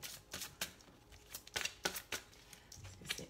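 Angel tarot cards being shuffled by hand, a quick series of soft papery riffles and taps, close and fairly quiet with no voices.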